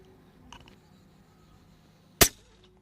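A single sharp, loud crack from an Airmaks Krait air rifle firing outdoors at long range, following a faint small click and quiet background ambience, with no talking.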